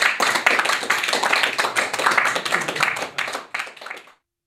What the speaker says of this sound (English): And clap a bit. Just clap.